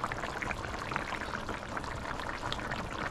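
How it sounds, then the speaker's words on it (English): Fish stew gently boiling in sauce on the stove, a steady dense bubbling and simmering hiss heard up close and continuous, with no talk. "I'm putting the fish in the sauce now and just let it boil a little"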